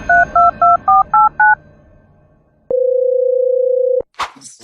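Six short telephone keypad tones dialed in quick succession, a pause, then a steady single line tone lasting over a second, ending in a click and a brief noisy burst, close and clear.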